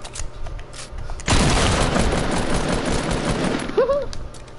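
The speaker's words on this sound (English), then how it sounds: "Just shooting the wall." Rapid automatic gunfire in a video game as a player shoots at a wall, a loud continuous burst starting abruptly and running to the end, with a few brief game tones near the close.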